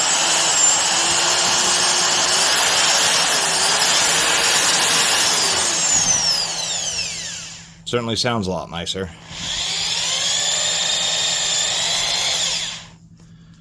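A Bosch B 6050 3/8-inch general purpose drill with helical gears whines steadily and loudly, cuts out briefly, then spins up again and runs until it stops. A short spoken remark falls in the gap.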